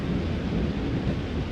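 Steady rain with a low thunder rumble underneath fills a short stretch of an Identity V video game cinematic, a continuous broadband wash with no voices over it.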